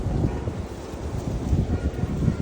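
Wind blows outdoors on a cloudy morning after a hot, still night, producing a steady low buffeting rush against the microphone that stays loud and unbroken throughout.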